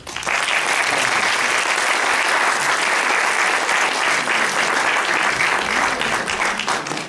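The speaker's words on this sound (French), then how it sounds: "Dominique Choisy, le réalisateur du film, merci, on peut l'applaudir" An audience at a film screening and round-table discussion applauds the film's director, a dense, sustained burst of many hands clapping at close range that holds steady for several seconds before easing off.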